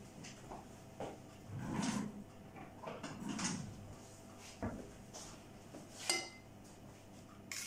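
Kitchen drawer handling while fetching a spoon for a coconut flan, soft rattles and clinks of cutlery with a few sliding bumps and knocks, quiet and intermittent.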